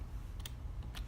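Keys tapped on a computer keyboard while entering a dimension value in Revit LT design software, a couple of soft clicks close by over a low steady room hum, no voices.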